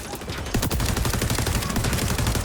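Gunfire in the shooter game XDefiant: a dense, continuous run of rapid shots under game noise, fairly loud and steady throughout.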